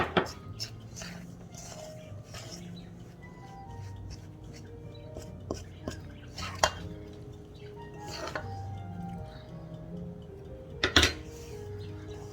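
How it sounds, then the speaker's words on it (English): A fork mixes butter and flour for pie crust dough in a bowl, giving soft scraping and scattered light clinks against the bowl, mostly quiet with a few sharper taps. "And I can mix it a little bit with a fork."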